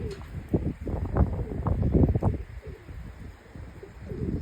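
Pigeons coo nearby in low, throaty, rolling calls that overlap and pulse for several seconds, with faint rustling around them.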